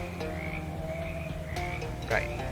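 Croaking frogs sound off in the game Shadows Over Loathing, several distinct croaks popping up over steady background music, with a louder burst near the end.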